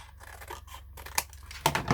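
Scissors cut a paper window envelope, giving a few close, crisp snips and rustles of paper with no talking.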